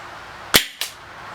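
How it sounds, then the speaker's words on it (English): An Umarex Walther SG9000 CO2 BB shotgun fires in 3-shot burst mode, giving two sharp, close cracks about a quarter second apart against a quiet background. "we're going to try this in 3-shot burst mode"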